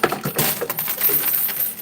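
Quarters dropping in a coin pusher arcade machine, a brief close flurry of bright metallic clinks and jingles tumbling over each other, loud and alone.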